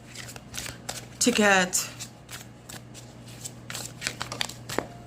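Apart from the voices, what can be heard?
shuffling tarot cards to draw another card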